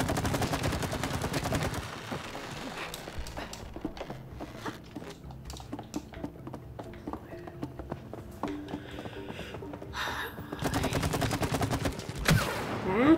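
Video game gunfire in It Takes Two rattles in rapid bursts, dense at the start and again near the end, with sparser clicks and game sounds in between.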